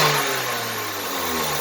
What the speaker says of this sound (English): Here's a quick rev when we are not under load.